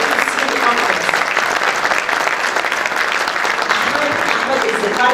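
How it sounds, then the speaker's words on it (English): Sustained applause from a conference audience at a Rotary district plenary session fills the room steadily and loudly, with a continuous dense patter of clapping hands throughout. "I would like you to cheer Farah Lutfi and Ahmed Shaheen"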